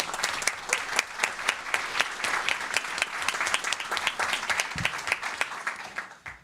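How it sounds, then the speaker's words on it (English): Audience applause at a school board meeting, with clearly separated individual claps over a dense wash of clapping, fading out near the end. "give them a round of applause real quick"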